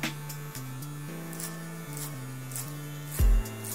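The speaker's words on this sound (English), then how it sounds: "we'll continue the blend with just straight clipper over comb" Hair clipper with a number 2 guard and closed lever, worked clipper-over-comb against a Wahl comb on a side-part haircut: a steady close electric buzz that shifts pitch slightly as it cuts, with a brief louder bump near the end.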